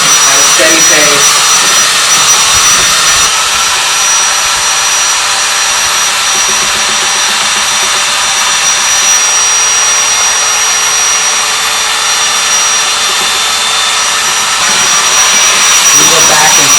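A rotating brush on a long rod spins through a dryer vent, driven by a drill, making a loud, steady whirring roar that carries on unbroken with a faint high whine and occasional rattles.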